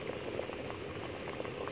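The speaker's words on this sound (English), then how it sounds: "I'm boiling out the salt out of the salted pigtail and salt beef" Salted pigtail and salt beef boil in a pot of water, giving a steady, close bubbling and gurgling with no voices over it.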